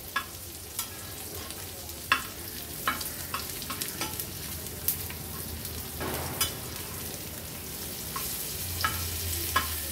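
Dried Bombay duck (bombil) frying in a pan over a low to medium flame, a constant crackling sizzle with occasional clicks and scrapes from turning the fish, close up and without speech.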